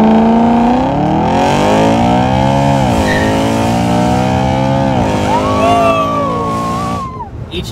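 A BMW E93 M3 convertible with DCT launches hard under launch control. Its loud engine note climbs steeply in pitch, drops briefly at quick gear changes and climbs again before easing off at the end.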